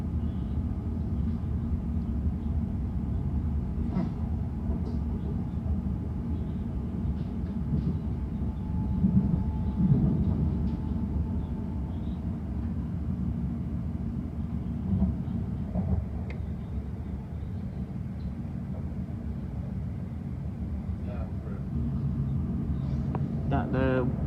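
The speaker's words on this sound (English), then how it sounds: "That was a Heathrow Express train." A Heathrow Express train passing on the line between Paddington and Reading: a steady low rumble of rolling wheels that swells briefly near the middle, with a faint voice in the background.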